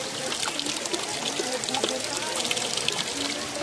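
Natural water from a waterfall at Bhadawana near Gwalior pours steadily into containers, a continuous close splashing stream with no pauses.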